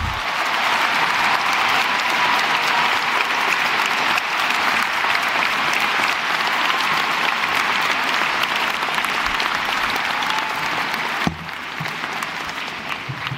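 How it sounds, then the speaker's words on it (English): A large high school graduation crowd applauds graduates headed to the U.S. Military Academy at West Point, a long, dense, even roar of clapping that continues unbroken and eases slightly near the end. "Let's give them all a great big round of applause"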